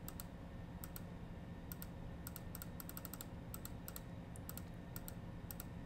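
Keys tapped on a keyboard while entering a new password on a security camera recorder, in short bursts of crisp clicks with brief pauses, close and clear over a steady low hum.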